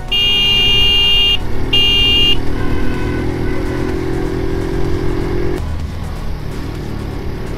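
A Honda CD 80 motorcycle with its engine running close by, a steady droning hum under two short, loud horn honks at the start, followed by a shift in the engine tone.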